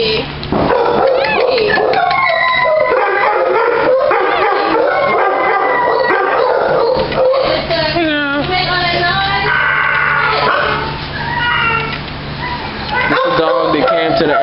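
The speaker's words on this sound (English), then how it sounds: "Dog that came to the animal shelter and just gave up because they didn't want it anymore." Dogs at an animal shelter bark, yip, howl and whimper loudly and close by in a continuous chorus of overlapping calls, with people talking underneath.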